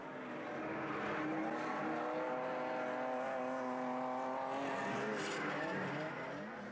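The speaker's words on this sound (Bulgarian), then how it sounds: "Ето го и Nissan, който е с дизел двигател на Веселин Стойчев." A Nissan drift car with a diesel engine at a drift day event in Varna, its engine droning loudly and steadily as it passes, with tire noise and a rise and fall in pitch across the run.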